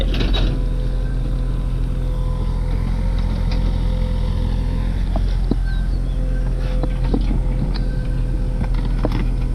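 A SANY SY35U 3-ton mini excavator digging out a large tree: a steady diesel engine drone with hydraulic whine, plus scattered clanks and knocks from the arm and bucket.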